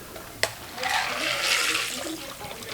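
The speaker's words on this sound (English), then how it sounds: "take the strainer, pop it on, and just pour it right in here" A drink is poured through a strainer into a glass, making a soft, continuous splashing trickle of liquid that follows a brief clink and runs for a couple of seconds, fairly quiet and close.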